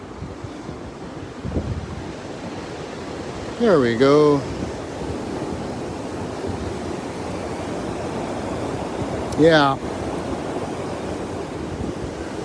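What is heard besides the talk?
roaring waterfall, Lower Falls in Rochester NY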